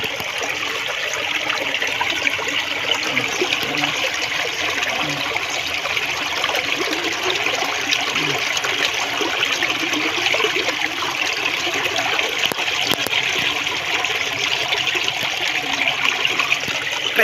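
Fresh water flows steadily into a crab fishpond outdoors, a continuous close trickling and gurgling stream with no talk over it.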